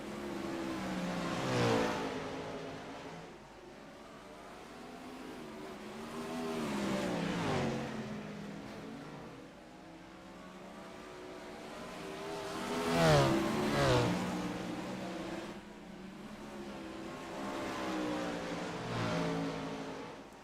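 Wingless sprint cars race at Volusia Speedway Park, their engines rising and falling in repeated passes, swelling loud as the pack sweeps by and fading between, with a continuous roar across the whole stretch.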